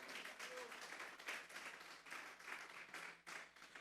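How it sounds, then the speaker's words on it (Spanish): A church congregation claps for the Lord during a Spanish-language sermon, a steady patter of many hands heard at moderate distance, fairly soft and even throughout. "Vamos a darle un fuerte aplauso pues al Señor."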